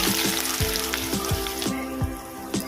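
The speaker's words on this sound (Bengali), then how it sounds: "হালকা করে ভেজে নেবো" Chopped onions frying in hot oil with nigella seeds while cooking chingri posto, a continuous sizzle nearby with repeated low knocks of a spatula stirring the pan, and no one speaking.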